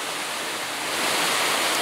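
A waterfall rushes as a steady, loud, hissing wash of falling water with no pauses.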